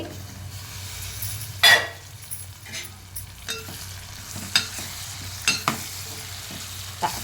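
Mutton curry with tomato simmering in a pot, a gentle sizzle running throughout while a spoon stirs with occasional sharp scrapes and clinks against the metal pot.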